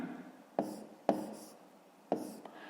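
Pen or chalk writing out a fraction answer for a 5th-grade math exercise, three sharp taps of the tip separated by soft scratching strokes, close and quiet with no voice.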